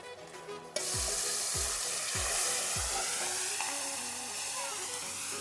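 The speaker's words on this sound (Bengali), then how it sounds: "মাছগুলো আমি একটু ভেজে নেব" Small fish frying in hot oil for a Bengali small-fish and bitter gourd dish: a quiet stretch, then a loud burst of steady sizzling that carries on, with several low thuds early on as pieces go into the pan.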